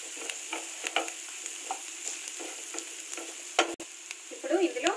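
Five green chilies fry in hot oil in a pan for egg curry, giving a steady close sizzle with frequent scraping stir strokes and a louder clatter near the end.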